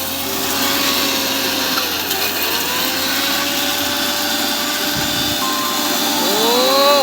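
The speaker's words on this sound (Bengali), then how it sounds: "এদিকে সিলে বাটা হচ্ছে আর এদিকে মিক্সিও চলছে" A mixer grinder whirs steadily and loudly throughout while spices are ground on a grinding stone in a home kitchen during chicken biryani preparation, its motor pitch wavering slightly, with no talk.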